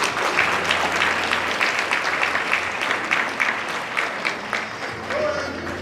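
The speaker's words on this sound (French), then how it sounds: "On applaudit les mots du directeur, du fondateur de Wonderful Institute." Audience applauding after the founder and director of Wonderful Institute speaks at a celebration; steady, dense clapping fills the room throughout, with a brief tonal sound near the end.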